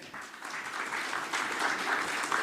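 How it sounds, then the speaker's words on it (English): Audience clapping at the Asia Liberty Forum 2017 dinner, a steady crowded patter of many hands that holds for a couple of seconds without talk. "Thank you for clapping"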